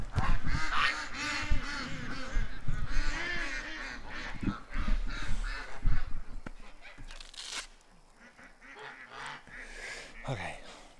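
Ducks call in a loud, overlapping chorus of honks and quacks nearby, tapering off toward the end into sparser, fainter calls.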